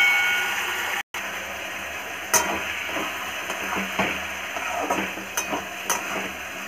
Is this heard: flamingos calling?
no